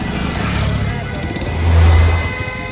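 Vehicles driving slowly behind torch runners at Shivneri fort during a Shiv Jayanti procession, a steady loud engine rumble with one vehicle swelling nearer, a voice speaking over it.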